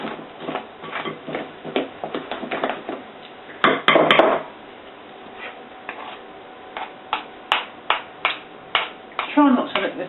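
Victoria sponge batter beaten in a bowl with a spoon, a quick run of sharp clinking taps against the bowl, close and irregular, with pauses between bursts.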